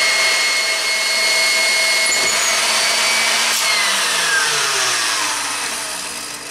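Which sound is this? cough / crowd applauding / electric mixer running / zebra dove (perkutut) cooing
electric mixer running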